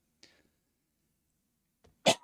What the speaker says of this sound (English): Excuse me, coughing on stream.